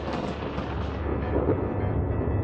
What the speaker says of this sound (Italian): nei giorni di tempesta rimbombavano tuoni, scoccavano fulmini